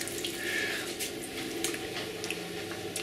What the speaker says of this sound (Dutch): Ik breng nu heel veel water op de plank en snij hem een paar keer los